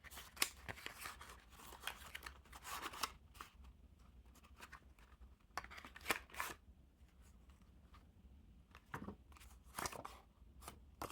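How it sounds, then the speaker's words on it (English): Bicycle Stingray playing cards are slid out of a paper tuck box, with quiet scattered rustles, scrapes and papery flicks close up and no talk. "Take the cards out of the box."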